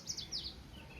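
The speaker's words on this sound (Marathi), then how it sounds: "आणि चिमण्यांचा चिवचिव चिवचिव," Sparrows chirp in a quick pair of faint high tweets outdoors after rain, brief and unaccompanied by talk.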